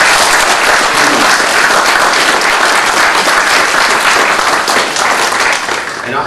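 A college audience bursts into loud, sustained applause for the life coaches, a thick continuous roar of many hands clapping that holds steady and eases off slightly at the very end.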